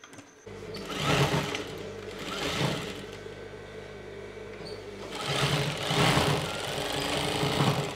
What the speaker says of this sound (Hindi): तो यहीं से हम सिलते हुए ले जाएंगे डायरेक्ट